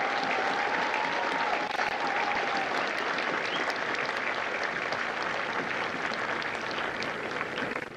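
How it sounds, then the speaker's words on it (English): A large crowd of families at a U.S. Marine Corps recruit graduation at MCRD San Diego gives dense, sustained applause that holds steady for the whole stretch with no talking. "would you please join me in a round of applause for the families of Hotel Company"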